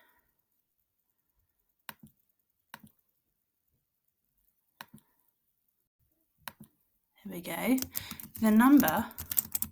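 A handful of sparse keyboard key taps sound in a quiet room, spaced a second or two apart, before a person starts talking.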